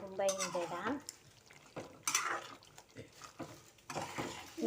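A spatula stirs an egg dish frying in a pan with coriander leaves, giving uneven scraping, clattering knocks against the metal and a faint sizzle in short bursts.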